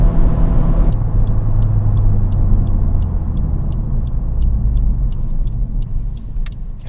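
Honda Civic Type R FK8 engine holding a steady loud drone near its hard limiter, a continuous close rumble throughout with no speech.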